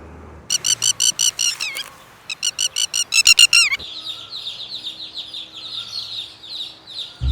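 Loud, rapid bursts of shrill, repeated piping alarm calls from a red-wattled lapwing, in two agitated volleys, followed by softer continuous chirping and twittering in the background.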